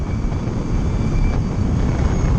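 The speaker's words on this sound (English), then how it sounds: "You guys can hear the motor and the reduction gear." Lightning Strike electric sportbike motor and reduction gear, a thin high whine with a jet-like tone riding over heavy wind buffeting and road rumble, steady and close during a test ride, no talking.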